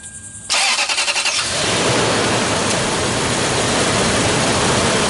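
A quiet moment, then a mystery vehicle's engine cranks briefly and catches, settling into a loud, steady running roar, with a big fan running loudly.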